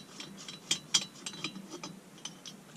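Cylinder head bolt being tightened on a Husqvarna 181 chainsaw, quiet close-up ratchet clicks in a quick irregular series, with a few sharper metallic ticks and no talking.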